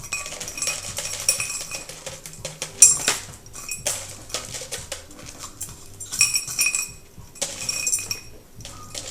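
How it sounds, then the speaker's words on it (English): Ice cubes dropped into a glass hookah base, giving a run of bright clinks and rattling taps that come in clusters and bursts, close and fairly loud, with no talking. "we're going to put some ice in here"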